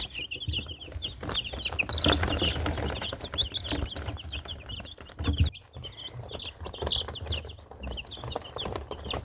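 Many small chicks, one to four days old, cheep constantly in high, rapid peeps, close by, with some rustling and shuffling mixed in.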